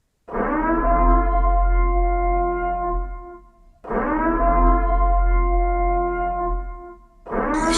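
A wailing siren with a sustained harmonic tone, sounding in three long loud cycles separated by brief dips, alone with no voices.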